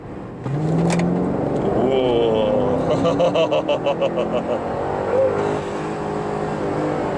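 A Chevrolet Camaro muscle car engine revs up and accelerates hard with a rising, pulsing roar, while people talk over it inside the car.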